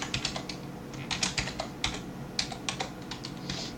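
Keys clack on a computer keyboard in quick irregular bursts of typing at a Linux text editor, close and fairly quiet with short pauses between runs.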